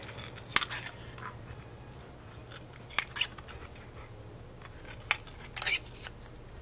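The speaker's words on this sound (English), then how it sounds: "what you want to do is you want to round off those corners." Scissors snipping the sharp corners off paper flower petals, four or five crisp separate cuts spaced a couple of seconds apart over a low steady background hum, close and fairly quiet with no talking.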